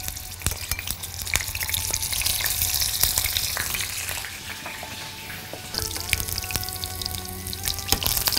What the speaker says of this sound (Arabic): ودلوقتي نبتدي نحط اللسان في السمنة عشان يتحمر